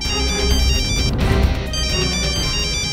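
Phone ringtone chiming in a home, a repeated bright melodic ring sounding steadily throughout at moderate volume.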